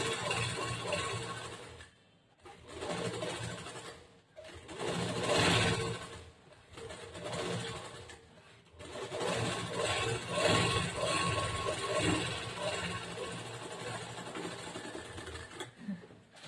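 Sewing machine stitching around a blouse neckline, running in bursts of steady whirring with short pauses between runs as the fabric is turned, moderately close.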